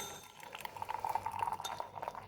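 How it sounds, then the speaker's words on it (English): Hot water pours into a homemade thermometer, a thin splashing trickle with faint glassy clinks, quiet and close, rising and falling over about two seconds without talk. "I put hot water inside it like this."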